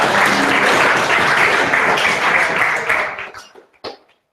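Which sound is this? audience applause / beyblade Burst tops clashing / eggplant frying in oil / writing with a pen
audience applause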